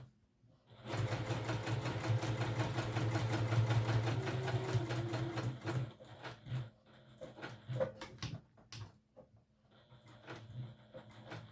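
A sewing machine fitted with a Teflon foot top-stitches a small piece in a quiet, steady run of about five seconds, followed by a few faint clicks and handling sounds.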